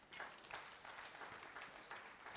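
Scattered applause at an end-of-year awards evening, steady broadband clapping from a crowd lasting a couple of seconds at moderate, somewhat distant level.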